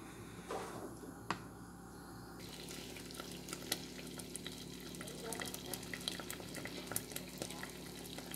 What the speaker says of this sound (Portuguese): coloquei no fogo e agora eu vou ficar mexendo até ficar um doce de banana bem douradinho.